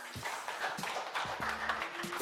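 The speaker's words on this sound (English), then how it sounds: "All right, clap it up." A crowd claps and cheers at the opening of a hip-hop talk podcast: dense, steady clapping that runs the whole moment at even loudness, with a low hum underneath.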